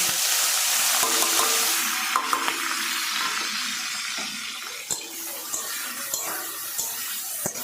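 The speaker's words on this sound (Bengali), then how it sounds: "তারপরে সুন্দর করে লাল লাল করে একটু ভেজে দিতে হবে তো" Grated coconut and chillies frying in a pan, a bright hissing sizzle that fades gradually, broken by a few sharp clinks and stirring knocks near the end.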